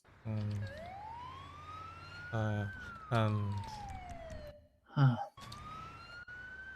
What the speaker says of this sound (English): You gotta put your lights and sirens on for this one and go up to 100.